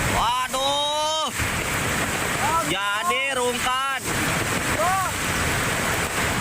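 A fast-flowing, swollen river current rushes in a constant loud roar, while someone talks over it in short bursts.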